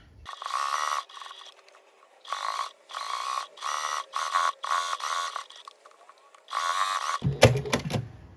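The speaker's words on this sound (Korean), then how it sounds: "이렇게 간격은 얇게 해서 박음질 해주시면 돼요" Sewing machine stitching a thin seam on a big-collar blouse, several short bursts of rapid mechanical whirring with pauses between, close and clear, ending with a clunk and handling noise.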